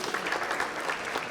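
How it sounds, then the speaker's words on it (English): Short stretch of steady audience clapping at a panel discussion on unemployment in Ghana, moderately loud and even, with no talking over it. "A warm applause as well from the audience, please."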